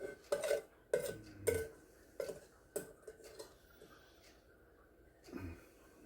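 Onions and seasoning being scraped out of a cooking pan for savory strada, with several sharp metallic scrapes and clanks in quick bursts, then quieter scratching and one last scrape near the end.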